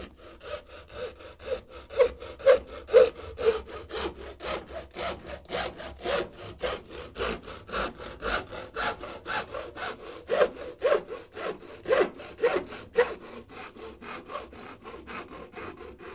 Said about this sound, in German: Ich will das mal mit der Eisensäge probieren.